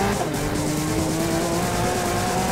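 Lamborghini Aventador in Need for Speed Rivals, a steady loud engine drone with tonal whine and tire noise throughout, close and continuous, no talking.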